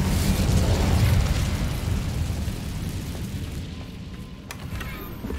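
An Incendio fire spell from Hogwarts Legacy goes off with a loud burst of fiery rumble that slowly decays into a dull, fading roar.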